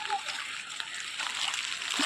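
Water splashes and sloshes through a rain-flooded field, forming a dense, continuous wash of splashing that holds steady throughout and swells slightly toward the end.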